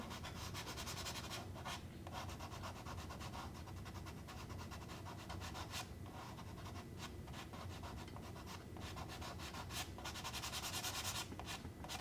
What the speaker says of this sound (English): all I have to do is come in and rough it up a little with my eraser